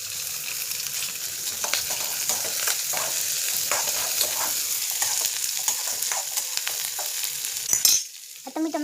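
Chopped onion frying in a pan, a steady close sizzle with crackles and stirring scrapes running for about eight seconds before quieting abruptly.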